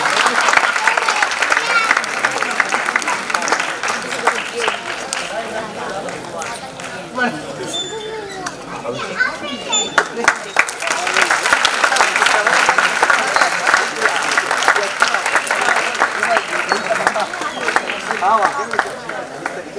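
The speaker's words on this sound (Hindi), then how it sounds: "राजा दादा जोरदार तालियां आपके लिए बनती हैं" Loud, sustained applause from a drama audience honouring the director Raja Awasthi, dense clapping that dips briefly midway before swelling again, with some crowd chatter underneath.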